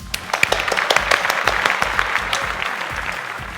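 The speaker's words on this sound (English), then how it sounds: "So let's give them a round of applause." An audience at a house party event applauds its hosts with steady, dense clapping that stays fairly loud throughout.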